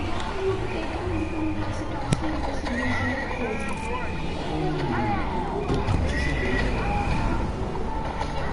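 Hooves and horse whinnies from a horse in the video game Fortnite, steady clip-clop running through busy game sounds with a talking voice over it.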